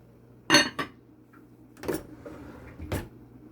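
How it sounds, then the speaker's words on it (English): A lid is clattered onto a pot of Jamaican sorrel (hibiscus flower) on the stove: a few sharp metallic clanks and rattles, close and fairly loud, spaced over a few seconds in an otherwise quiet kitchen. "I'm just gonna cover it for a few minutes and let it come to a boil."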